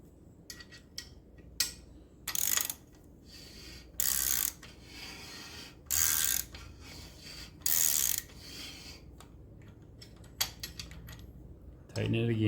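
A ridge reamer tightened in a small block Chevy engine bore gives several bursts of ratcheting clicks in short timed spurts, separated by quiet pauses and a few isolated ticks, while a person talks quietly.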